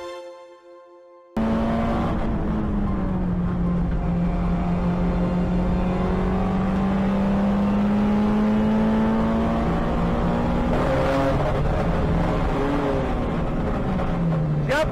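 Onboard a Honda race car on the Assen circuit, the engine droning loudly and steadily close up, pitch rising slowly then dropping, with a brief sharp burst near the end; the car has gearbox trouble.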